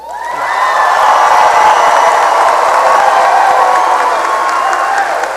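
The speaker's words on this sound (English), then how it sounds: "give a round of applause to the class of 2020" A large crowd at a high school graduation ceremony for the class of 2020 claps and cheers in sustained, loud applause with whoops, swelling quickly and holding steady throughout.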